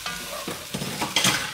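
Beef and vegetables coated in flour are stirred in a pot for a boeuf bourguignon au vin blanc, giving a short run of scraping, sizzling scuffs that swell louder near the end.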